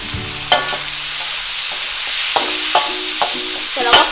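Shrimp and holy basil leaves are stir-fried in a hot pan for a Thai basil shrimp dish. A loud, close sizzle carries repeated scraping and clattering strokes of a spatula.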